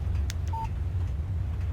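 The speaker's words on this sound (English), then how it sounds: "Text message from Barry." A short, single electronic beep of a phone text-message alert in the video game Alan Wake sounds once, briefly, over a steady low engine-like hum, with no speech.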